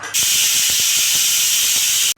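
A pressure cooker on the stove, cooking dal for vakkaya (karonda) pappu, lets out a loud continuous hissing whistle of escaping steam. It starts sharply and holds for about two seconds with faint rattling underneath.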